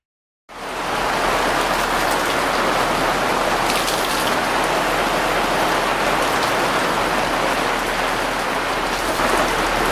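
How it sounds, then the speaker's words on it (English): Steady rain pours down after a brief silence, a dense, even hiss of drops on surfaces that continues unbroken. "Well, the rain has started."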